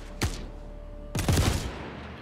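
Gunfire in the video game Star Citizen: a single sharp shot, then after a pause a rapid burst of several close, loud shots with a booming low tail, with no talking.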